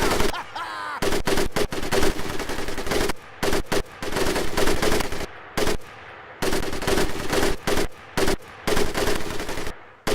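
Rapid machine-gun fire in the Medal of Honor Pacific Assault video game during a training sequence, loud sustained bursts with short gaps between them, close and dominant.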